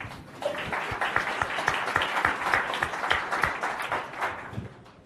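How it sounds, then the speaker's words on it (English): A live comedy audience bursts into warm, sustained applause, many hands clapping at moderate loudness for several seconds before tapering off. "I hope you join me in a round of applause"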